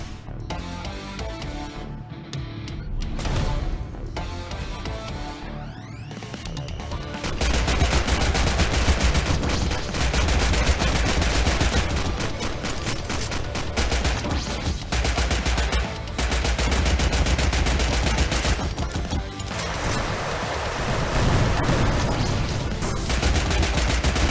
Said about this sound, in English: we're going to go in and use the K1 Assault Rifle against this guy